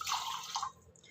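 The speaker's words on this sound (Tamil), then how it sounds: "இதுக்கு மீதி 3 கப் தண்ணி விட்டுக்கலாம்" Water is poured into rice for a Sri Rama Navami prasadam, a brief close splashing trickle that tapers off within about a second, with no voices.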